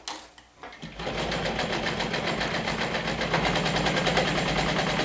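A sewing machine bastes all around through every layer of fabric and lining, its needle chattering in a fast, even, continuous rhythm close by with no voices.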